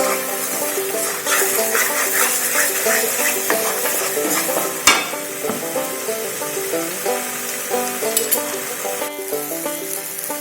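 Masala fries in hot oil in a heated pan while chicken curry is made, a steady bright sizzle with scattered crackles and a sharp clatter midway, close and continuous, no voices.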